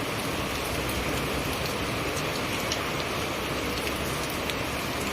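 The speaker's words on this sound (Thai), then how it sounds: "ฝนตกหนักมากครับนะครับ" Heavy rain pours steadily near a PTT petrol station on the Pak Chong highway, a dense, loud, unbroken hiss with no voices.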